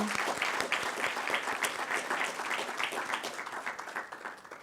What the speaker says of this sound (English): give a big round of applause to all the presenters